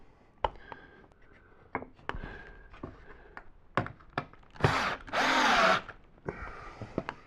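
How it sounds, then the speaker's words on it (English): A power drill drives a screw into plywood on a shop-built taper jig, with a sustained whirring burst in the middle, preceded and followed by scattered knocks and handling thumps of wood, close and fairly loud. "I'm just going to run a screw down into that thing."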